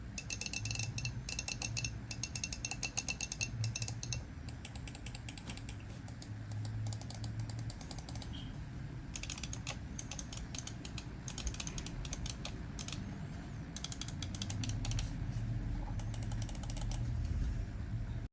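Rapid, crisp clicking from a Razer DeathAdder V4 Pro mouse, louder with a noticeable ping, repeating in steady bursts throughout, close and clear with no talking.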